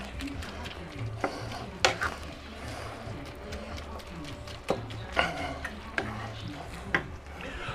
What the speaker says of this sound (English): I want to stir it a little bit